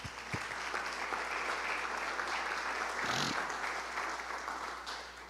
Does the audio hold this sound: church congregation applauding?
yes